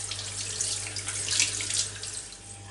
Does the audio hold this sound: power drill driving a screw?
no